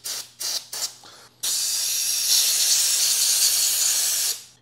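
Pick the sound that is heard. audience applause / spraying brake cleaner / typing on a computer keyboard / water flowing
spraying brake cleaner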